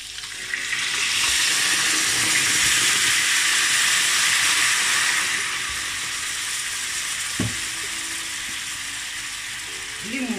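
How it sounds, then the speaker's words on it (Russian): Wine is poured into a hot pan of browned salmon and hits it with a loud burst of sizzling, which settles into a quieter, steady fry over several seconds. "наливаю вино."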